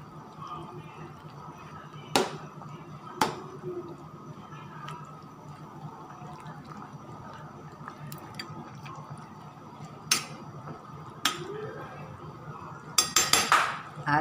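A spoon stirring Chinese soup in a pot, heard as a few sharp metallic clinks and scrapes spaced apart over a quiet background hum, with a quick flurry of knocks near the end.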